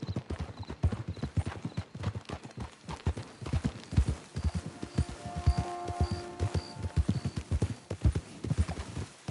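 Horse hooves clip-clop steadily on the ground in Red Dead Redemption 2, a brisk repeating rhythm close by, with a brief whinny and soft game music underneath.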